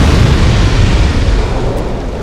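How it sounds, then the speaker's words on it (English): Ballista-fired large explosion in the Dark Souls 2 video game, a dense low rumbling boom that fills the whole moment and rolls on steadily without a clear onset or fade. "you heard that large explosion too, which hopefully killed another enemy"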